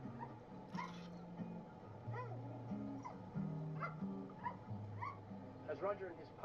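A small pup barks and whimpers in short yips and whines scattered through the stretch, mixed with other animal-like cries, while a voice talks steadily over it.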